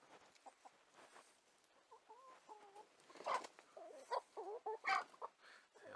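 Chickens in a backyard enclosure, an established flock confronting a newly introduced hen, cluck and squawk in a run of short bursts, the calls growing louder and more agitated toward the end.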